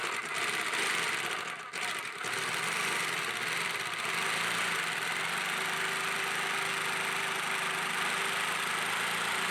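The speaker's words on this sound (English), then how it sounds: "let me try cutting this 1x6-inch lumber with the jigsaw at position 2" A Black+Decker KS701PE variable-speed jigsaw at speed setting 2 cuts through 1x6-inch lumber, giving a continuous buzzing, rattling drone nearby with a brief dip early on, no talk.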